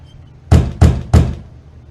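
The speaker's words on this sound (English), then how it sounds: "How polite of you to knock." Three firm knocks on a door in the video game The Wolf Among Us, evenly spaced and close, each a heavy thud that rings briefly, with quiet before and after.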